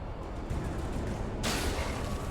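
Gunfire in the Alan Wake Remastered video game, a brief burst of sharp shots set against a dense background of game noise, with one abrupt loud crack near the end.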